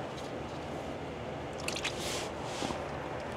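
Transmission fluid drains from the drain plug of an Aisin automatic gearbox on a 3.0 TDI Q7, Touareg or Cayenne. It gives a faint, soft liquid trickle with a few small drips and squishes close by.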